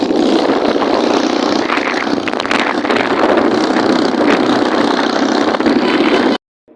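A motorbike rides along a road, its engine a loud continuous rumble mixed with heavy wind buffeting for several seconds before cutting off abruptly.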